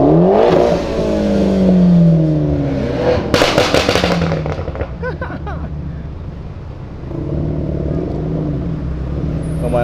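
A McLaren sports car engine revs and roars loudly nearby, pitch climbing and falling through gear changes with a sharp crackling burst midway, then settling into a steady drone.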